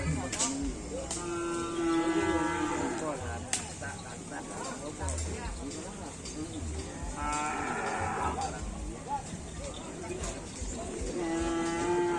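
Cattle moo loudly at a Madurese bull race field (karapan sapi) in Asemanis, with several long, drawn-out calls spread across a noisy outdoor crowd where people talk throughout.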